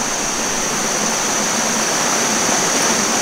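Water pouring through a Platypus GravityWorks 2.0 L gravity filter kit, a loud, steady rushing hiss of flowing water, continuous and close for the whole few seconds, with no voices.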